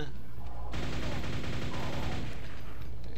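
The Quake nail gun fires a rapid, continuous stream of metallic shots for about a second and a half, loud and close, then cuts off while the game's background hum carries on.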